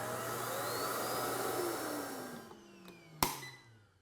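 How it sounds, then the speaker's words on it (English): A robot vacuum's self-emptying dock sucks dirt out of a hand vac's dust bin, giving a loud steady whooshing roar that runs for a few seconds, then stops with a sharp clunk and fades. "Hit this button and it automatically empties the dust bin."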